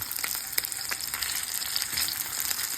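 Tocino sizzles steadily in a pan, a dense crackling fry with scattered louder pops throughout, close and alone with no talking.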